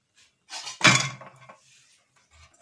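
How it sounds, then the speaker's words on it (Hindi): A metal tadka pan picked up in a kitchen, giving a couple of short, close clinks and a clatter against other cookware, with quiet pauses between. "अब हम तड़के के लिए तड़का वाला बर्तन लेंगे"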